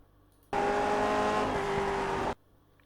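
Lotus 49 race car in the iRacing game at Le Mans, its engine note suddenly bursting in loud and steady for under two seconds, then cutting off just as abruptly.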